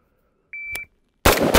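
A single electronic shot-timer start beep sounds, a steady tone lasting about a third of a second, followed after a short pause by a loud burst of rifle fire on a shooting range.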